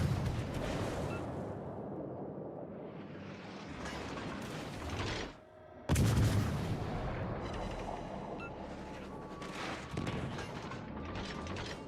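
Naval guns firing armor-piercing rounds in a warship video game, heavy mechanical booms and rumbling over a steady clanking background, with one sharp blast partway through followed by continuing dense battle noise.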